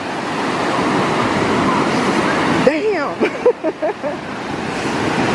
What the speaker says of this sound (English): And look at the beautiful waves.